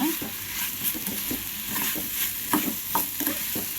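Raw plantain slices sauté in oil in a pan, a steady soft sizzle broken by repeated scraping stirs at a regular pace, close and moderately loud, with no talking.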